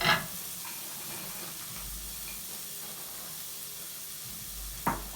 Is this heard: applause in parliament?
no